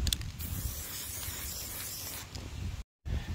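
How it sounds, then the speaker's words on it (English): A steady, close hiss of yellow and black spray paint from an aerosol can onto PVC pipe runs for a couple of seconds, stops, then resumes briefly after a short silence. "I'm going to spray paint a really bodgy yellow and black camo job on it"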